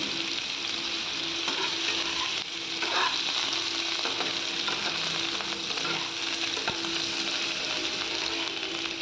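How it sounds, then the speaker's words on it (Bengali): Jackfruit pieces, already boiled, stirred and fried in hot oil for a potato-jackfruit curry, giving a steady close sizzle with scraping spatula strokes throughout and no talk. "এবার কাঁঠালটাও একটু তেলে নেড়ে দেবো"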